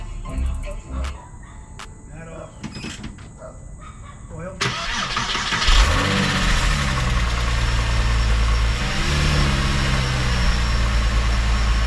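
A Porsche engine cranks and fires up after clicks and handling noises, then settles into a steady, loud idle close by, with a voice talking briefly over the start.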